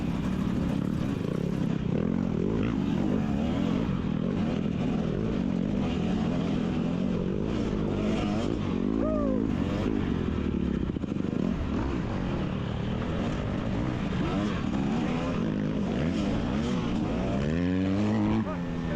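250cc dirt bikes race in the C class at a GNCC cross-country round, with engines droning loud and steady the whole way through, revs rising and falling as the bikes push through a muddy section.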